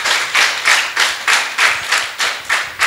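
Clapping from a small audience for the panelists of a French-language talk program on work-life balance: about nine loud, evenly spaced clap bursts in a steady rhythm, close and with no talking over them.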